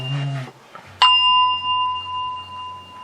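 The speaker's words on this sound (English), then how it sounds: "That's not a cowbell, that's a pussy-ass bell." A small bell struck once, ringing out with a bright metallic ding that holds a clear sustained tone and fades slowly, following a short burst of a low voice just before.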